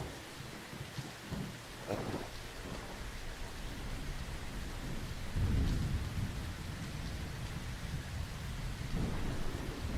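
Steady heavy rain pours throughout with rolling thunder rumbles building in the low end, loudest around the middle and again near the end, with no voices over it.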